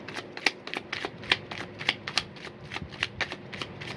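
A deck of cards is shuffled close by in a quick series of crisp riffles and snaps, fairly quiet and with no talking.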